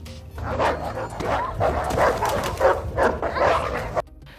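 Several dogs in a film scene bark and whimper in a close, busy run of yips and whines that carries on for about four seconds, then stops abruptly.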